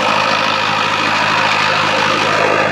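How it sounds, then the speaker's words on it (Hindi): A Mahindra 605DI Arjun Novo 4x4 tractor runs steadily with an 8-foot Shaktiman rotavator, a loud, continuous, close-up engine drone with no breaks. "देख सकते हो ट्रैक्टर जी"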